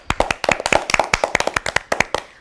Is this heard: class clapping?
yes